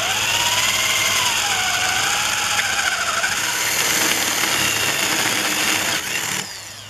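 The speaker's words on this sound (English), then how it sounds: "I drilled the hole" A power drill bores a hole during camper trailer modifications, a loud, continuous high whine with squealing pitch sweeps that winds down near the end.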